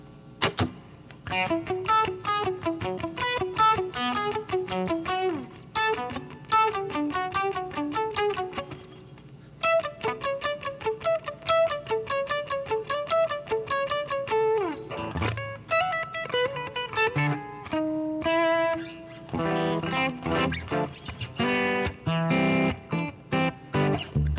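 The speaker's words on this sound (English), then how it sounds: "Let's put a little bit of reverb on there." Electric guitar plays a run of picked notes and chords with a spacious, lingering reverb tail, close and steady for the whole stretch.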